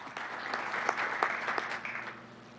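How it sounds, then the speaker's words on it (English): Audience clapping steadily at a public council meeting, welcoming a city prosecutor running for attorney, with a few sharper claps standing out over a moderately loud, even wash of hands. "Please join me in another nice big round of applause for welcoming Joseph Padilla"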